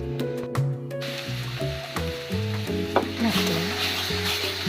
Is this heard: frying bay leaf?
yes